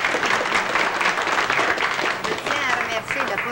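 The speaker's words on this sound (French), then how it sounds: "Vous pouvez l'applaudir." Audience at a 1977 Canadian evening gathering in Saint-Jean-de-la-Lande breaks into sustained, dense applause that carries on steadily throughout.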